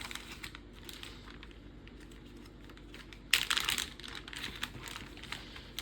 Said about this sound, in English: Unless I crinkle the corners just opening the bag.